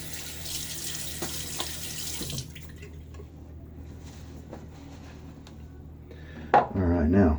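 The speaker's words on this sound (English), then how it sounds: "A little more water on my face." A bathroom tap runs steadily while someone wets their face before a wet shave, then the flow cuts off, leaving quieter room sound before a brief splash and a burst of water near the end.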